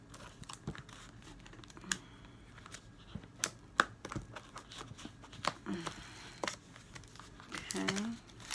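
Cardboard box packaging being opened with scissors, with scattered crinkles, snips and rustles coming close and fairly quiet, broken up by short bursts of talk.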